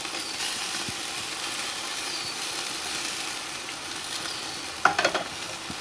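Flank steak and onion sizzle in a hot pan with a steady, close hiss, and a brief scrape and clatter marks a flip near the end.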